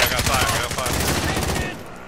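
Video game gunfire in rapid automatic bursts, dense and continuous for about two seconds, loud and up front, with players talking over it.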